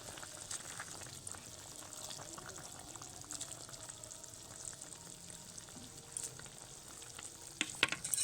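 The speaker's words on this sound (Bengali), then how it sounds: "ঝোলটা বেশ কয়েক মিনিট ভালোভাবে ফুটে গেছে এবার ভেজে রাখা মাছগুলো একে একে দিয়ে দেব" A pot of fish curry gravy bubbles at a steady simmer while previously fried fish pieces are added. A soft, continuous boil runs throughout, with a few light clunks near the end.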